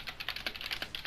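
Fast, hard keystrokes rattle on a computer keyboard in an angry burst, a dense run of clicks, close but fairly quiet.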